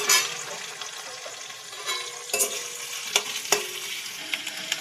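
Potatoes sizzle steadily in hot oil, with occasional sharp crackles and light scraping from stirring.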